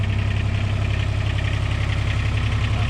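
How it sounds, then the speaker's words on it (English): A Kubota RTV900X utility vehicle's engine idles steadily close by, a loud, even diesel-like chug with a fast regular pulse and slight knocking rattle, with no talk over it. "Start the engine."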